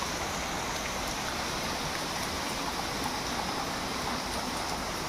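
Heavy rain pours steadily outside an apartment, a dense, even roar of water with no letup and no voices.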